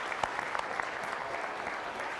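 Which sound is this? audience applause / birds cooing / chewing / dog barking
audience applause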